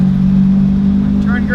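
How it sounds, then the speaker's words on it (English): A Lexus 1JZ engine idles with a steady low hum just after a cold start, loud and close, with a brief higher-pitched whine near the end. "Oh, just a good cold start."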